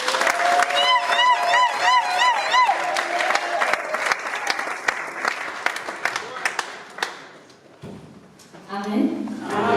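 Church congregation applauding and cheering in praise of the Lord during a special ordination service, dense clapping and crowd noise for several seconds that thins out, with voices mixed in.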